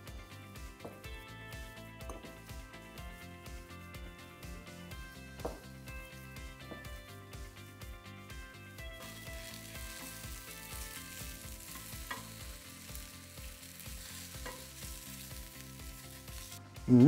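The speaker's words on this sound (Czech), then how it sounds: "Ty děláš karamelizovanou cibulku." Onions sizzle and fry in a pan with cayenne pepper, a steady soft crackle up close, broken by occasional stirring scrapes and clinks, with no talk.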